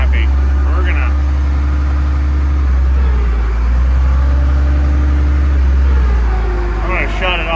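An International Harvester 1066 tractor engine idles loudly, its steady low drone bogging down as the clutch is let out, with someone talking over the engine throughout.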